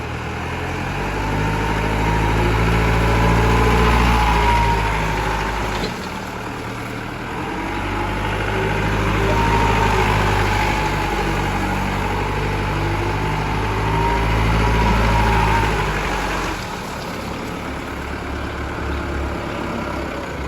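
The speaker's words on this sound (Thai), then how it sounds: "เป็นเครื่องยนต์ดีเซล" The diesel engine of a Toyota 5FD25 2.5-ton forklift idles with a steady low rumble, rising and falling slightly in pitch as it briefly revs up and settles twice.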